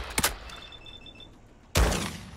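A Lockwood 300 short-barrelled shotgun loaded with incendiary rounds fires in Fallout 4, giving a sharp close blast at the start and a second heavy boom near the end, with a quiet stretch between.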